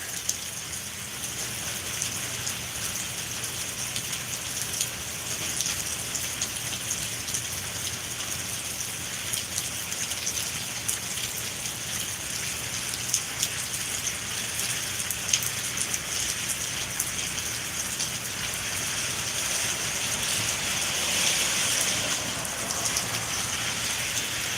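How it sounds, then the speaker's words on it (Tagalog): Steady rain falls throughout, a continuous hiss of drops pattering on a surface with a few louder splashes, no voices. "Yeah, umuulan."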